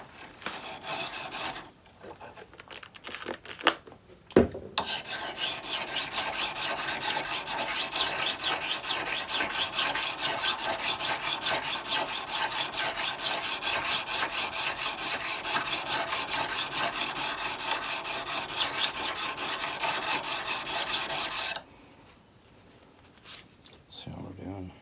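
A file rasps steadily by hand on a rust-pitted antique tool, a continuous close scraping that runs for about seventeen seconds after a few short strokes, with someone speaking briefly before and after.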